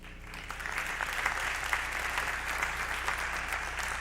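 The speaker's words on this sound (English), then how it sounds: "Please, one more round of applause for the Tiger tennis, the lady tennis players, and all of you spring athletes as well." An audience at a spring sports awards ceremony applauds, a steady, even wash of clapping from a sizable crowd that holds at the same level throughout.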